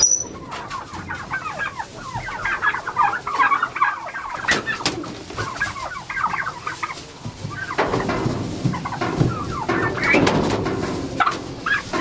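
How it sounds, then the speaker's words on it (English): Several turkeys gobble and cluck excitedly on a ranch during a harvest, their calls overlapping in loud bursts, some near and some further off, with rustling movement and no speech. "Catch it by the feet. Grab one foot, get the other foot."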